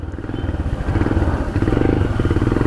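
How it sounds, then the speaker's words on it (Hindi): A Royal Enfield Himalayan BS6 2021 motorcycle idles with the throttle held open while the bike has a stalling problem, giving a loud, close, steady thumping single-cylinder pulse that grows a little stronger after the opening moment. "अभी मैं थ्रॉटल जब तक मेरा रोटेटेड है तब तक ये इंजन चालू रहेगा"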